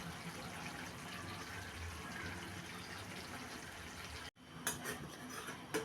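Broth pours steadily into a pan of fried fish curry with capsicum, a continuous liquid gush for about four seconds, then cuts off abruptly before a few light clinks and stirring noises.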